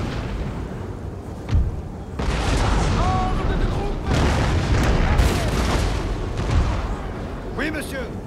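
Artillery fire in a Napoleonic battle video game at Ligny, with booming blasts and a dense, continuous roar of battle noise, while voices talk and shout over it.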